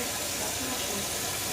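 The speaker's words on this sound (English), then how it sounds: "that water was running" Water running from a tap, a soft continuous hiss and splash, faint and steady without interruption.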